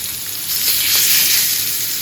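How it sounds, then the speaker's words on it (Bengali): Fish frying in a pan produces a loud, bright, continuous sizzle that swells slightly midway and carries on steadily, with no talking over it. "মাছ আলুগুলোও চাকচাক করে ভাজবো"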